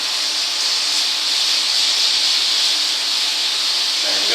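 Lamb browning in a hot pan, a loud, steady broadband sizzle that holds evenly throughout without pause, close up.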